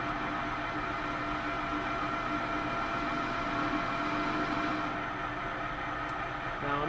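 A metal lathe's cutter shaves the corner of a part as the cross slide feeds it in, a steady grinding machine hum with a constant whirring drone throughout and no talk.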